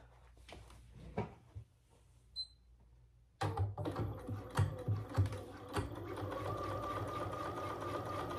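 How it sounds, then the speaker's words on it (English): A sewing machine runs with a fast, steady mechanical whir, stitching a small stitch length on a fabric bag hardware case, preceded by a few handling bumps and clicks before the motor starts up. "I'm just going to sew that on with a really small stitch length"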